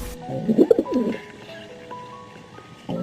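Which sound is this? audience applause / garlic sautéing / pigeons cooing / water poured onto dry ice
pigeons cooing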